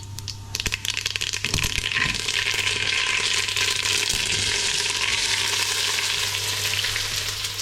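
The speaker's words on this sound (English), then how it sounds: "To that I'm going to add some fennel seeds. Look at that, sizzle sizzle." Steady loud sizzling of fennel seeds frying in hot oil, a crackling hiss that starts abruptly and continues without letting up, with a low hum underneath.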